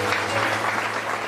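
A church congregation claps together in a dense, steady burst of applause, loud and close, filling the short moment evenly from start to finish.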